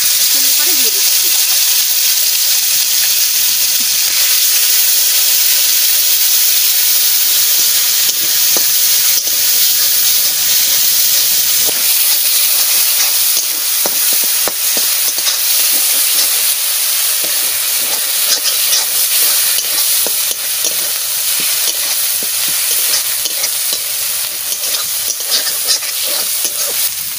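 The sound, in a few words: frying bay leaf and cumin in oil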